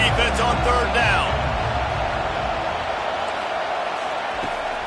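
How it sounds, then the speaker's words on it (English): Stadium crowd in an NCAA college football video game, a broad steady roar holding loud throughout a third-down play, with a commentator's voice over it early on. "Decibels rising as the crowd gets behind this defense on 3rd down"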